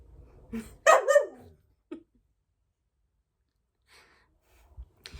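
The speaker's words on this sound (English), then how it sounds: "stop barking at me" A single sharp dog bark rings out nearby, followed by a short yelp and then near silence with faint rustling.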